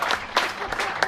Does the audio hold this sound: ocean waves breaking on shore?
no